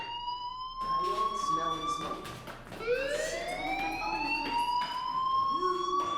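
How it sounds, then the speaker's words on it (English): A fire alarm in the Life Is Strange video game wails in rising, sustained siren-like sweeps, loud and continuous for several seconds while a voice speaks over it. "do you hear that fire alarm? That means you should be outside."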